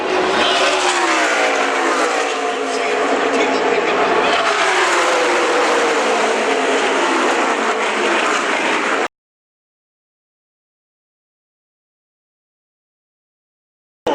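A pack of NASCAR race cars roars past at Daytona International Speedway in a loud, dense rush of engines with shifting pitch. The sound cuts off abruptly into silence partway through.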